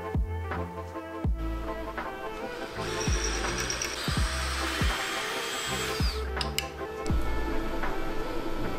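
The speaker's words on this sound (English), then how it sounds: "So I'm going to go ahead, drill a couple holes" Power drill boring holes through knife scales for a karambit-style tactical knife, several short bursts spinning up and winding down in a steady rhythm, one longer whining run in the middle, close and loud.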